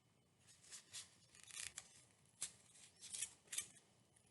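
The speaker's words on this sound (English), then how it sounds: "Snipping round, snipping round." Scissors snip around a piece of card in a series of short, faint, irregular cuts close by, with quiet pauses between the snips.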